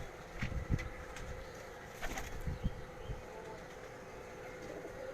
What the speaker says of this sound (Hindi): उनके घर के ये कबूतर आपको दिखा रहा हूँ